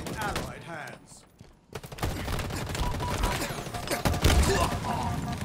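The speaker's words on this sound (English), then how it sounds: "Good grenade from the teammate." Grenade explosions and gunfire in Halo Infinite multiplayer: rapid bursts of shots, then a sharp blast, loud and dense over game effects.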